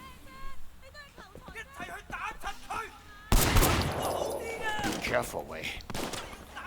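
Sleeping Dogs gunfire erupts in a sudden loud burst of rapid shots after a quieter stretch, continuing in clustered volleys with a voice talking over it.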